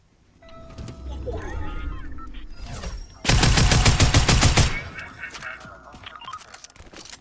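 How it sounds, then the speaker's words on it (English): Rapid automatic gunfire in Fortnite bursts out loud and close for about a second and a half, a fast regular stream of shots, with game sounds and voices talking before and after. "But there's a gunshot over there."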